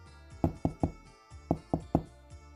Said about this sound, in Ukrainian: Це хтось стукає у віконце.